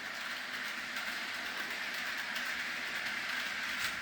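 A Bachmann Monopoly HO scale model train set from 1998 runs on its track with a steady, continuous rolling rattle and whir, close and even in level throughout, with no talk.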